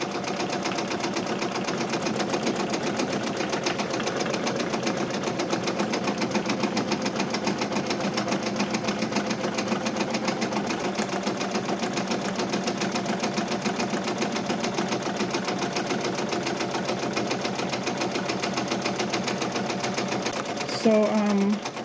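Embroidery machine stitching 3D puff embroidery on a hat at a slowed speed of 450, a steady rapid mechanical chatter that runs continuously and close, with a brief clatter near the end.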